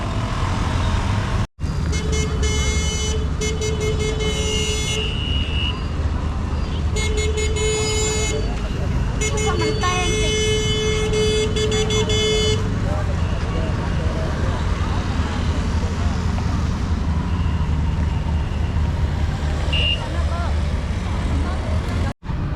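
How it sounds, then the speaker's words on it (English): The last traffic rolls along Walking Street in Phnom Penh at night, a steady roar of engines with an occasional horn toot, while people talk nearby. "Last bits of traffic coming through, and that's it."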